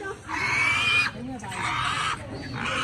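Piglets squeal in loud, repeated bursts at a rural market in Tủa Chùa district, Vietnam, during heavy rain, with a noisy crowded background and occasional voices nearby.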